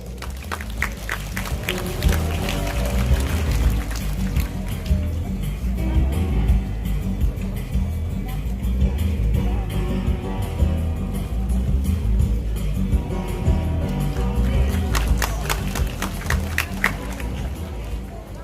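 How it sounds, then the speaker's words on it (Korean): An audience at the opening ceremony of the 2022 Jecheon oriental-medicine bio expo applauds. Clapping swells at the start and again near the end, with crowd murmur and movement in between. "여러분 따뜻한 박수로 맞이해 주시죠"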